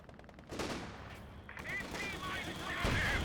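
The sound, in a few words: artillery and gunfire in video game Company of Heroes 2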